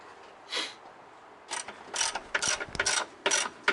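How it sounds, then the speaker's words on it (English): Ratchet tightening an 18 mm bolt on car coilovers: short bursts of rapid clicking, one brief stroke, a pause, then several quick strokes in a row, close and crisp with no talk. "So where Grant's actually ratcheting right now is an 18"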